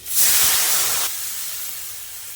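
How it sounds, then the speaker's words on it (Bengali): Water poured into a hot pan of fried green chilies bursts into a loud, close hiss and sizzle of steam, then drops to a quieter, steady sizzle that keeps going. "লঙ্কা দিয়ে একটু নাড়িয়ে নিয়েছি এবার জল দিয়ে দেবো"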